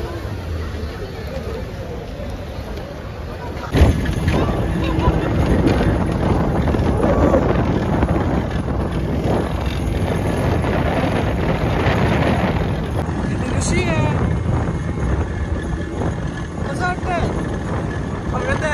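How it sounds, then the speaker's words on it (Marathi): Speed boat ride on Hussain Sagar lake, with a steady engine and water rush under heavy wind buffeting on the microphone, plus a background murmur of people, continuous throughout. "सो आम्ही स्पीड बोट सिलेक्ट केली आहे."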